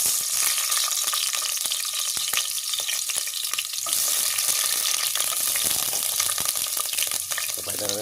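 Chopped onion frying in hot cooking oil while shrimp sinigang is being made, a steady loud crackling sizzle with frequent sharp pops and spits running throughout with no talking.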